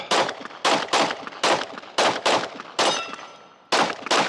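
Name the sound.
Glock pistol shots at a shooting range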